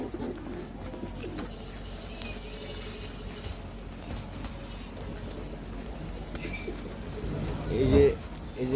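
Pigeons coo softly and steadily in a loft, a low murmur under background noise, with a slightly louder burst near the end.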